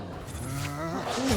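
A troll roars in the video game Hogwarts Legacy, giving a deep, growling bellow that rises toward the end, loud and close with no talk over it.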